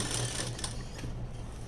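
A sewing machine stitches the lining of a net blouse in a quick, continuous mechanical whirr with a steady rhythmic chatter, close and alone.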